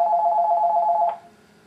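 A telephone rings with a steady, loud repeating electronic trill that stops abruptly about a second in, leaving faint background hum.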